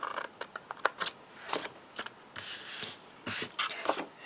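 Scissors snip a tab off a piece of card at an angle, a series of short crisp cuts and papery rustles, close and fairly loud, with a couple of longer slicing strokes and no speech.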